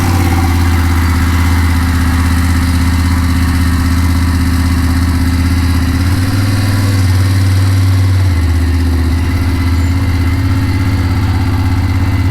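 A Triumph Thruxton R motorcycle engine idles loud and close, a steady deep throb with a brief rise in pitch midway before settling back to an even idle; no talking.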